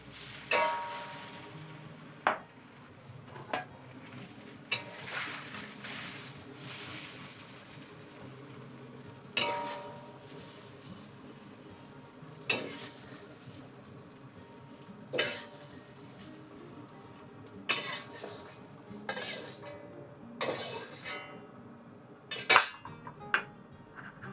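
Beef ho fun noodles stir-fried in an iron wok: a steady low sizzle broken by repeated sharp metallic scrapes and clanks of a spatula against the wok, coming every few seconds, close and without talk.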